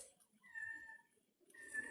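A cat meows twice in a public cemetery, two drawn-out, fairly quiet calls separated by a short pause, with no talk over them.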